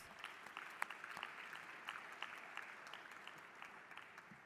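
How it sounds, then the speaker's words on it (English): Delegates at the opening session of the 13th WTO Ministerial Conference give a round of applause, a faint, distant, steady patter with a few sharper claps standing out. "So I want us to give them a round of applause."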